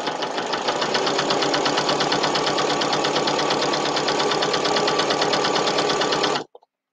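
A sewing machine fitted with a walking foot stitches a quilted potholder, a loud, fast, steady mechanical whir and rapid needle clatter running continuously for about six seconds before stopping abruptly.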